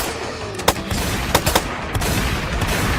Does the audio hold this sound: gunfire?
yes